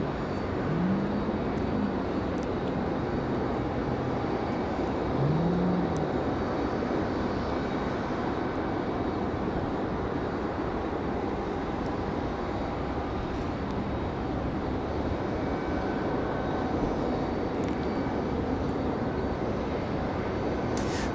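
A CRJ regional jet arriving at Raleigh Durham airport from Austin, Texas, a steady broadband engine roar holding loud and continuous throughout with no talk over it.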